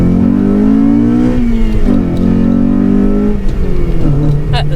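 Modified car engine, likely a Honda Civic or Nissan Silvia, revving loud and close with a steady rising, falling drone and a brief dip partway through; people talk faintly in the background.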